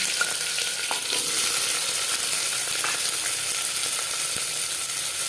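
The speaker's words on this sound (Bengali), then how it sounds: "চার পাঁচ চামচ সর্ষার তেল গরম করে নিয়েছি এবার দিয়ে দেবো পেঁয়াজ কুচি" Chopped onions frying in four or five spoonfuls of hot mustard oil, a steady close sizzle filling the whole stretch with a few faint stirring clicks, no voices.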